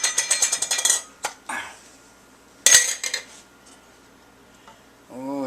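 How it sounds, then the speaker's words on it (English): Thick yogurt is worked by hand in a bowl, with a quick run of clinking utensil-on-bowl taps followed by scattered scrapes and knocks, close and fairly loud, then a short burst of voice at the end. "now we're going to mix in the yogurt"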